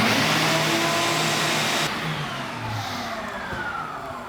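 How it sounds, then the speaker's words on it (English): A shop vac hooked to a dust collection hose roars steadily, then switches off and its motor whine winds down, fading through the rest of the clip. "We can give it a test by turning the shop vac on and off."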